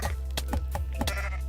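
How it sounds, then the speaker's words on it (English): Sheep in the video game Necesse bleat several times in quick succession, clear and close, each cry short and wavering over a steady low background hum. "Including beating up sheep because it was in my way."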